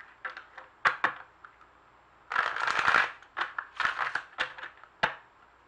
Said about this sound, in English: as I shuffle this